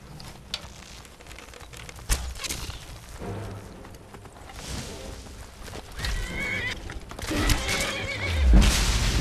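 A horse in the video game Skyrim whinnies amid clip-clopping hooves and creaks, the neighing swelling louder toward the end with no talk over it.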